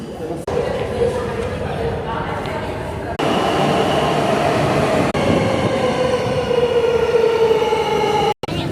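Warsaw metro train on line M1, loud rumbling carriage noise with rising wheel squeal and shifting roar, a sudden jump in level partway through as the ride continues, with passengers' voices mixed in.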